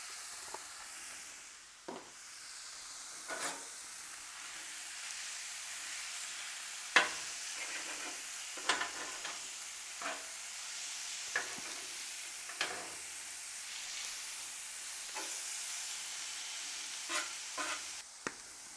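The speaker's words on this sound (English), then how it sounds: "I'm going to throw the meat on." Steady sizzling hiss of cheesesteak meat frying in avocado oil on a hot Blackstone griddle, with occasional scraping and clinks of a spatula, no talking.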